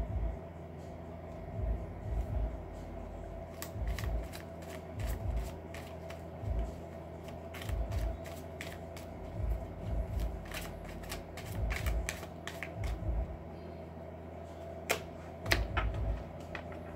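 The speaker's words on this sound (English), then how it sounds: "I'm going to be using a Gypsy playing card deck." A Gypsy playing card deck being shuffled, giving bursts of riffling and flicking card noise in irregular runs over a steady low hum, fairly quiet and close, with no voices.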